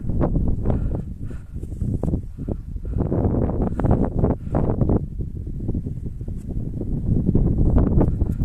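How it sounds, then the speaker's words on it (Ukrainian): Strong wind buffeting the microphone on a foggy mountain top near Vorokhta in autumn, loud rumbling gusts that rise and fall continuously with faint rustling. "А тут все затянуто туманом. І вітряно."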